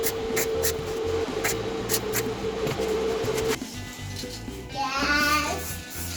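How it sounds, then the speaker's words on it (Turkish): Welding on scrap metal for a dog sculpture gives a steady crackling, sputtering hiss with a faint hum underneath, then shifts to a rougher burst of noise near the end. "Şimdi kaynak yapacağım."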